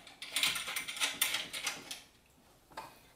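Lock nut being tightened on a pipe nipple at a 4-inch electrical box during a generator transfer switch install, a quick run of close metallic ratcheting clicks, then quieter with one last click.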